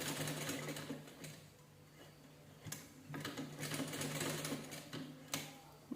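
A sewing machine runs a second, doubled line of stitching in a steady, fairly quiet rhythmic whir, with brief clicks and a few pauses in the motor's pace.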